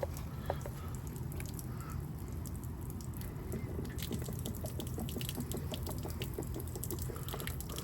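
Water drains from a camper water heater as a continuous low trickling and gushing flow with scattered drips, steady and fairly faint throughout, with no talking.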